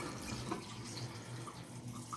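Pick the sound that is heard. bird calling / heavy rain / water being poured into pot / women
water being poured into pot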